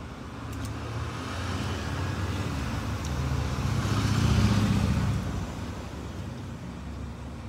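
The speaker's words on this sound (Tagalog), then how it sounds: "Diba maraming sasakyan." Steady road traffic on a street in Japan, with several cars passing at moderate distance and one louder vehicle swelling up and fading away midway through, with no talking.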